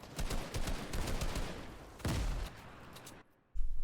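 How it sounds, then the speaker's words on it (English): Rapid bursts of grenade explosions in Fortnite, loud and close, several blasts rolling together in a dense barrage before a brief drop to near silence and a final burst. "Got spammed with grenades."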